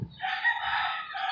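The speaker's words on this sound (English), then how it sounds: "Hear all those roosters?" A rooster crows once, loud and fairly near, a single sustained call with a rising then held tone, outdoors by a tin gate in Sosua where many caged roosters are kept.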